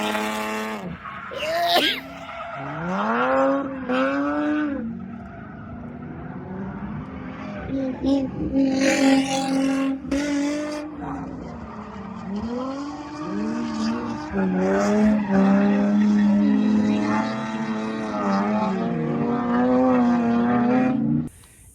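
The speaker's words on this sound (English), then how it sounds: "I'll insert a clip of me drifting there." A drift car skids around Apple Valley Speedway with loud engine revs rising and falling and tires squealing through the turns, sustained and close across the whole stretch.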